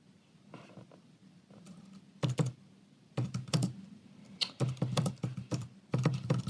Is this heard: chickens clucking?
no